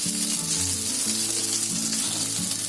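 Potatoes fry in hot oil in a pan on a gas stove, giving a steady, close hissing sizzle that stays even throughout with no talking.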